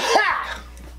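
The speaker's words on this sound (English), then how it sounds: "Was that a sneeze or a cough? It was a cough." A single short cough up close, breaking off into a faint breathy trail.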